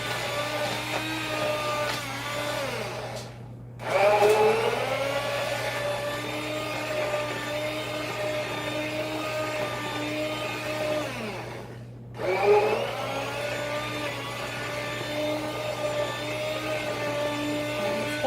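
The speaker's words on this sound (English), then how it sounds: "I'm gonna go ahead and use my little hand blender." A hand blender whirs continuously, its motor pitch dipping and rising as it churns through thick, foamy carrot soup, with two brief pauses before it revs back up.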